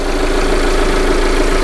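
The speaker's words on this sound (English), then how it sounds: "So with the engine running," A 2015 Jeep Cherokee engine idles steadily and loudly close by, a continuous even hum with no talking over it.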